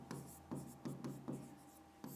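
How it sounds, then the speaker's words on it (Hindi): Pen writing by hand on paper during a Hindi grammar lesson: soft, close scratchy strokes that come in short bursts about every half second, quiet and steady, with no talk over them. "देखिए हम यहाँ लिखते हैं"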